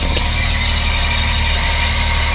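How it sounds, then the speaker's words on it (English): A 1980 BMW 528i engine runs loud and close with a steady mechanical whir and hum from the drive belt near the alternator, unchanging throughout. "Oh, that's the belt noise."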